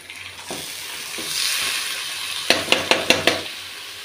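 Leafy greens sizzle steadily in a hot pan for a village basaru recipe, followed by a quick run of five or six sharp metallic clinks from a spoon striking the pan.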